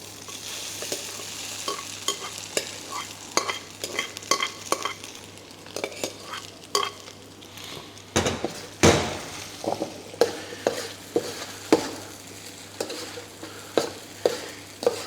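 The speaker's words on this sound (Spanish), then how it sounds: "ahora es sofreír este pan, que al estar mojado no se va a quedar, digamos, hecho tostones, sino que se va a quedar blando" Soaked bread crumbs frying with garlic in a pan, with a soft constant sizzle and frequent clacking stirs and scrapes of a utensil against the pan, fairly close.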